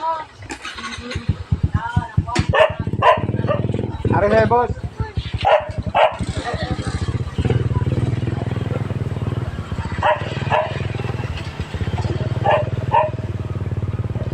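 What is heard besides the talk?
dog barking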